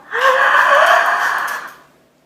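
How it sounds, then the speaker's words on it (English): A deep, forceful inhalation during a hydrogen peroxide inhalation breathing routine, one long drawn-in breath lasting about two seconds, close and loud, then fading out. "And it's exhale, all the way out, inhale,"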